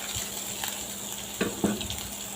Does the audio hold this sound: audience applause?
no